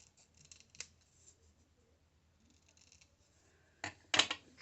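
Scissors snip through book pages and dyed cheesecloth while tags are trimmed down, one crisp cut early, then a quiet pause before a quick close burst of two or three snips.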